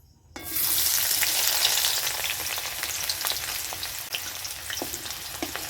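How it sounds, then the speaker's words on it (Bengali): Chopped onion drops into hot refined oil with bay leaf and whole cumin and erupts into a loud, close sizzle. It then crackles steadily while being stirred. "পেঁয়াজটা আমি একটু ভালো করে ভেজে নেব"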